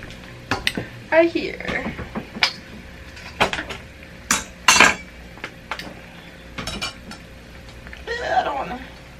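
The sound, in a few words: adding corn and sausage into a cooking pan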